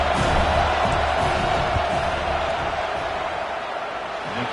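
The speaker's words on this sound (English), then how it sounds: "This crowd trying to do its part to get inside the kicker's head." Loud stadium crowd in the game College Football 26 during an Iowa vs Nebraska field goal attempt, a dense continuous roar of cheering that eases off slightly toward the end.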